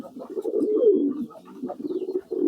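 A native desi pigeon gives a series of close, clear, rolling coos in two phrases with a short pause between, loud and alone without talk.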